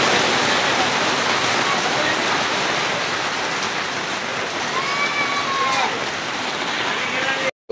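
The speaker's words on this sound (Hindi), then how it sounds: "चलते समय पानी बहुत शानदार गिर रहा है यहाँ पर" Heavy water pouring down steadily along the Pavagadh temple climb in Gujarat, a loud, unbroken roar like a downpour or cascade close by, holding even throughout.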